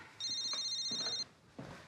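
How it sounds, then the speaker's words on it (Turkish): Telephone ringing in a domestic setting, one long electronic ring burst of steady tones lasting about a second, followed by a short pause and the start of another ring, with faint room sounds beneath. "Çaldırmayın Cercar, açın telefonu"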